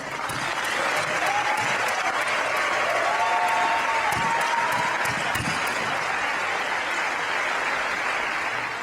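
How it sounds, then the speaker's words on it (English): Sustained applause from a conference audience at a youth leadership event, dense steady clapping filling the room for several seconds with a few louder individual claps standing out. "Give them a round of applause."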